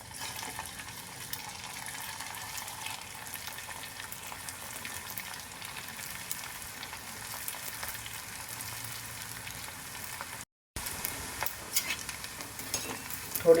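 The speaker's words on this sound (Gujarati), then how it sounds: "હવે આપણે આને તેલમાં ફ્રાય કરવા માટે મૂકીએ" Maggi noodle pakoda balls deep-fry in hot oil with a steady, close sizzle and bubbling that runs for over thirteen seconds, broken by one brief silent gap near the end. No one speaks.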